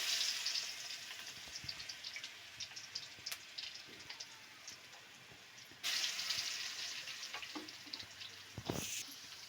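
Garlic and green chilli paste dropped into hot oil for tempering, a bright crackling sizzle that bursts louder partway through and keeps spitting steadily, with no voices.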